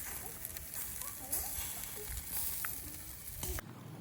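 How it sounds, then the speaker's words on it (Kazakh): Shashlik kebab grilling, with a continuous close crackling sizzle and faint popping, while people talk quietly over it. "Шашлик пісіріп отыр."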